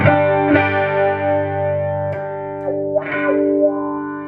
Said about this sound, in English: when I turn the wah pedal on, the chorus on this Roland actually shuts off